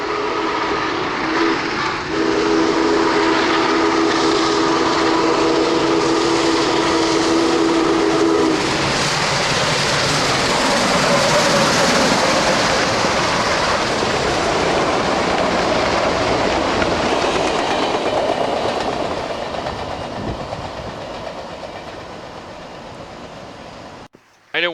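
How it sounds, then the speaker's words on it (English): The SP&S 901 Challenger steam locomotive blows a long, loud whistle that echoes across a valley while it runs at speed on a test run, its steady rumble and rail clatter continuing after the whistle fades. "901's whistle echoes across the valley"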